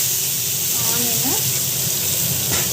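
Onion and tomato sauté in a pan, giving a steady, close hiss of sizzling throughout, with a brief murmur of voice rising over it partway through.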